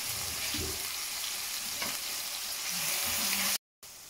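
Garlic and onion fry in a pan with a steady, close sizzle and light stirring scrapes, ending in a short abrupt gap of silence before the hiss resumes.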